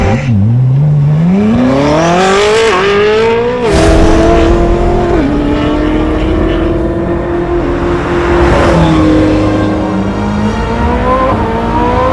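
A Koenigsegg Jesko engine revs hard and climbs through gears up close on the Top Gear test track at Dunsfold Aerodrome, shifting and roaring on, loud and continuous with rising pitch sweeps.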